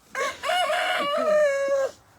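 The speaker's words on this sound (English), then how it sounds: "down at our feet, we're getting pecked constantly by the hens. These are the laying hens." A single nearby laying hen on a farm lets out a long, drawn-out crowing call lasting nearly two seconds, alone against quiet.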